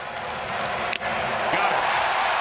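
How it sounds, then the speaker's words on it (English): Steady, loud crowd roar from a big audience at a ballpark during a late-innings Orioles–Blue Jays baseball game, a broad continuous wash of noise with a brief sharp knock near the middle. "Big crowd, a lot of noise here in the ballpark trying to help Garcia out of this."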